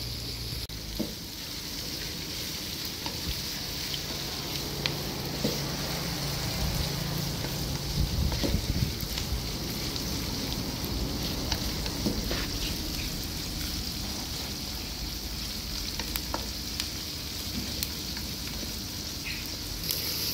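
Food fries in a pan with a steady, continuous sizzle and crackle, close and even throughout, with occasional faint clinks.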